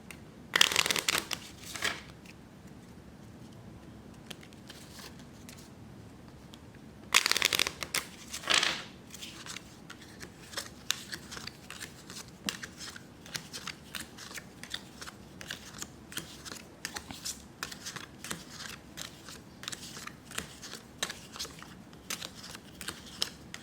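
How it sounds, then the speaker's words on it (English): Playing cards shuffled in a few loud riffled bursts near the start and again around a third of the way in, followed by quieter repeated card snaps and handling noises, close and with no talking. "Now let's shuffle for the 4th time"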